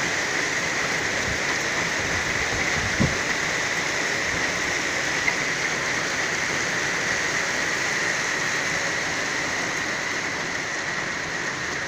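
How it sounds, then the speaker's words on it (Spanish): Heavy rain pours down during a thunderstorm on a Madrid street, a dense, steady hiss of drops hitting surfaces for the whole stretch, with a couple of brief nearby knocks and no voices. "pero está lloviendo un huevo."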